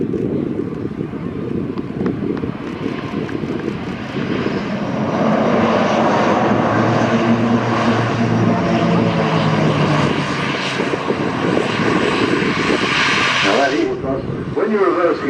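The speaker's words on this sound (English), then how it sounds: "have been a very short, commendable landing roll, and may even see a little bit of reversing back down the runway" A six-bladed propeller aircraft lands at the Farnborough Airshow and reverses along the runway, its loud continuous engine and propeller roar swelling and shifting, buffeted by wind noise on the microphone.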